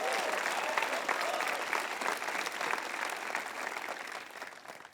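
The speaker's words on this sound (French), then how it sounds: "Allez, applaudissez-les fort" A church congregation applauds volunteers, the clapping dense and sustained but somewhat distant and soft, filling the room evenly before slowly thinning toward the end.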